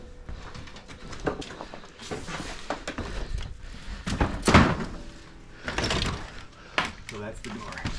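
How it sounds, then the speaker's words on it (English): An old door in an abandoned 1300s castle is shifted with scattered thumps, scrapes and knocks, one heavy bang standing out midway, amid footsteps and rubble noise. "So that's the door."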